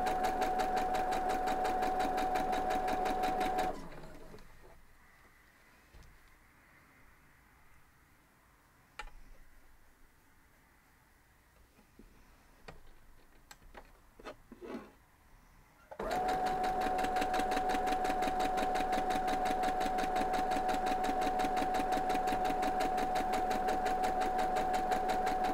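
A sewing machine chain-pieces quilt block sections, whirring loudly and continuously, then falling quiet for several seconds with faint handling clicks before the rapid stitching resumes at full speed.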